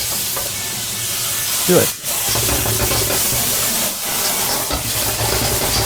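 Cabbage stir-fries in a hot wok with rice wine and soy sauce just added, a steady dense sizzle and hiss running throughout, briefly dipping, while a person speaks a word over it.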